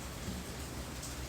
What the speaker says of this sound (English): It is raining pretty heavily here.